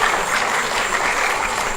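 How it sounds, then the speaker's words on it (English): Audience applause at a Hmong New Year celebration in a school, a steady broad wash of clapping that holds evenly throughout with no voices. "That's a great reason to applaud."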